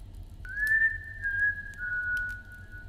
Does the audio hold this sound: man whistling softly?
yes